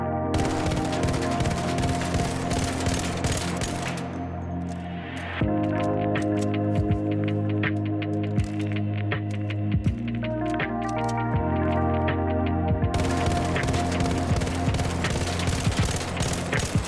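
The Arpeggio rifle in the shooter Arc Raiders fires rapid bursts of shots over a constant tonal game backdrop, with a short pause mid-way before the gunfire resumes, loud and close.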